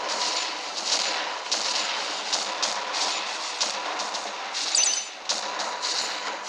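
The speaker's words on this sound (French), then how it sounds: "Nous allons utiliser des explosions de train." Repeated booming train explosions in the game Godzilla Battle Line, blasts and crashes over a dense, roaring rumble, with no pauses between them and one sharper burst near the end.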